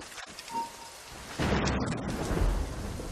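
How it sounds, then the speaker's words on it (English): Thunderstorm in the video game Assassin's Creed Rogue: a low rumble builds, then a loud, sustained thunder crash with heavy rain noise fills the rest. "The storm is getting worse."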